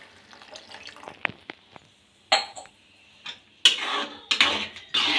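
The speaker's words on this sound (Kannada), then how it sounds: "ಈ ಟೈಮಲ್ಲಿ ಒಂದು ಅರ್ಧ ಗ್ಲಾಸಷ್ಟು ನೀರು ಹಾಕಿ" Half a glass of water poured into a simple tomato egg curry in a hot pan, giving sudden sizzling, hissing bursts between quieter clinks and stirring sounds.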